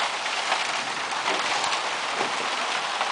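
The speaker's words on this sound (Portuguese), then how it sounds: "Chove forte em Sertãozinho." Heavy rainstorm pouring down in Sertãozinho, a steady, dense hiss of rain hitting surfaces close by, loud and continuous with no voices.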